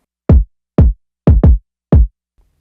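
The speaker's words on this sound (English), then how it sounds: "right now this kick sounds pretty solid" Punchy kick drum sample with clipping gives five short, hard, deep thumps, two of them close together. Each hit decays quickly into silence.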